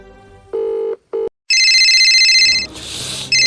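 A phone call going out: a few short dial tones and beeps, then a loud, close electronic ringtone chiming steadily for a second or two, briefly broken by a burst of noise before the ringing resumes.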